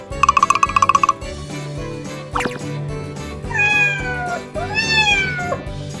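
A cat meows several times, loud and close, with drawn-out rising and falling calls following a short burst of chiming tones.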